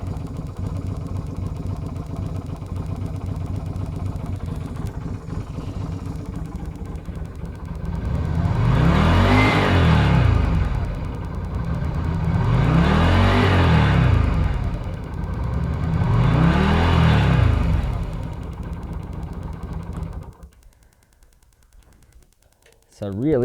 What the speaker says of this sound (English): that's a warm engine, it's running